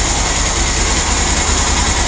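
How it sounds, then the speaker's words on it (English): A QBK Q Link Tour 250 motorcycle engine idles steadily while warming up, a close, even, continuous putter with no one talking. "warming up the engine a little bit"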